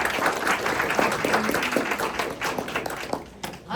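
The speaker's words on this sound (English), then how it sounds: "Give a big round of applause." Audience applause at a tech showcase event, a dense steady wash of clapping from a crowd that carries for several seconds and thins slightly toward the end.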